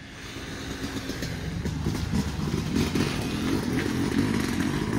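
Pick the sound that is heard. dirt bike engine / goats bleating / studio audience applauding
dirt bike engine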